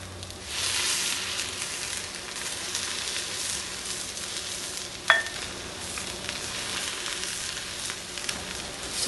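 Butter sizzles steadily in a takoyaki pan around batter and filling, a close, continuous crackle with one sharp metallic click partway through and no talking.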